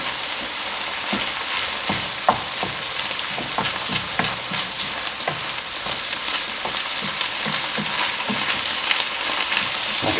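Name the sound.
mince frying in a pan for lasagne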